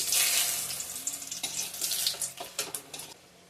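Bay leaves and dried red chilies hit hot oil as the base for a fish curry, with a burst of close sizzling that slowly fades, broken by a few stirring scrapes and clinks.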